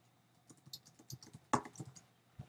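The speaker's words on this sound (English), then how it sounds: "So you type in your name there, etc." Typing a name on a computer keyboard, a quiet, close run of light irregular key clicks spread over a couple of seconds, with one sharper louder tap in the middle and no talk.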